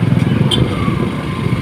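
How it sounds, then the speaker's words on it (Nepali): A new Royal Enfield Bullet motorcycle idles steadily and close by on a road, its engine a continuous low rumble for the short stretch with a little traffic noise around it. "नयाँ रहेछ यार बुलेट बाइक"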